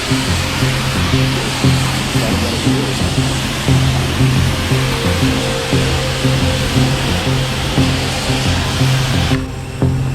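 A hose rinses a modified Honda Fit, making a loud, steady hiss of spraying water that runs unbroken for about ten seconds and cuts off abruptly at the very end.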